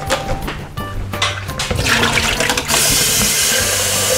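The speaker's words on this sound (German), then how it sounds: "Zuerst braucht man erstmal Wasser für die Nudeln." Tap water running hard into a cooking pot for pasta, a steady rushing gush that grows louder and fuller as the stream continues, close up with no talking.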